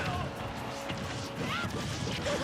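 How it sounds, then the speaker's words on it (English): An up smash attack connects in a Super Smash Bros. match on the Town and City stage, a sharp smash impact sounding over steady game music and crowd noise. "Oh, Zexy actually up smashes both of them"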